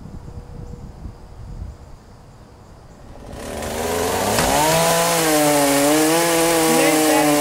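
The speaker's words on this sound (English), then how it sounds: "And there's Daddy's chainsaw." A chainsaw cuts up a fallen tree during yard tree removal: after quiet outdoor ambience with insects, the engine revs up and roars loudly and steadily, its pitch wavering as it bites into the wood.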